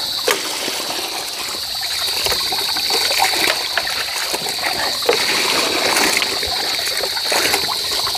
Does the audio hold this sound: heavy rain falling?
no